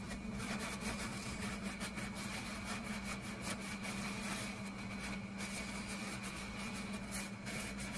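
Continuous rubbing as excess soot is wiped off a burned Camillus knife handle, a steady close scrubbing texture with no pauses and no voices.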